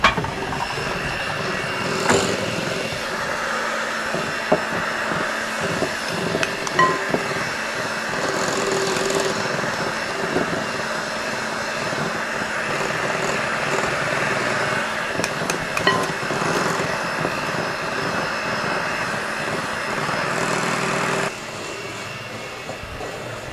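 Electric mixer beating cookie dough for Christmas cookies, a steady whirring drone with clattering beater knocks running throughout, holding at an even level before dropping abruptly near the end.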